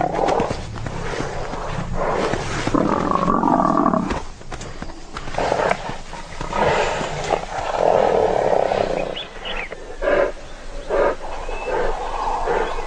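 A lioness battles a horned animal in the wild, giving loud, rough growls and roars that surge and fade with the struggle, mixed with scuffling and heavy breathing at close range, with no talk.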